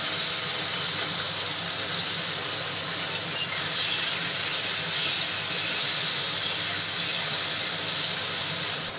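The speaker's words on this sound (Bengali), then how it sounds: "এই চিংড়ি মাছটা হলুদ লবণ দিয়ে মাখিয়ে নিয়েছিলাম, এখন ভেজে নেব।" Turmeric- and salt-coated prawns frying in a pan give off a steady, close hiss of sizzling oil throughout, with one brief sharper crackle partway through and no talking.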